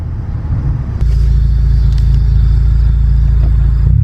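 A stage 2 catless Subaru WRX engine pulls at full throttle, a loud, steady, deep drone that jumps up in level after a second and holds a sustained roar with no talking.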